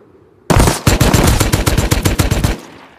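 Automatic gunfire in the survival video game Rust during a raid, a loud, close burst of rapid shots in a fast rhythmic volley lasting about two seconds after a brief quiet start.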